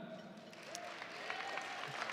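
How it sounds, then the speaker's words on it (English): An audience at an alumni association gala fundraiser applauds the staff with a soft, steady wash of clapping that swells slightly toward the end. "Can we get a round of applause for them?"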